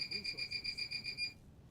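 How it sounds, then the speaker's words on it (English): An electronic alarm beeps in a fast pulsing, high-pitched pattern for a little over a second before cutting off, over a low background rumble. "And that's my alarm."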